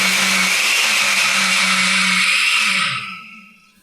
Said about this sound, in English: we're going to carefully blend it